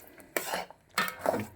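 A spoon scrapes twice around a pot of upma as semolina is added, two short metallic stirring strokes close by.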